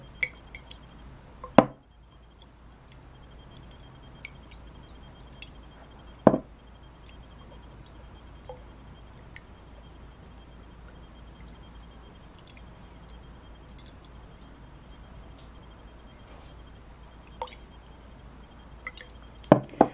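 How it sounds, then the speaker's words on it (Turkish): A spoon stirs sugar into water inside a glass, with sparse, sharp clinks against the glass spaced seconds apart over a quiet background. "Karıştırıyoruz iyice şekerle suyu."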